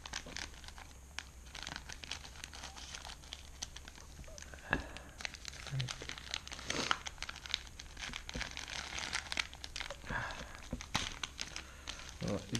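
Scissors cut open a plastic delivery package for a phone case, producing quiet crinkling and snipping crackles in scattered bursts, close by and fairly faint.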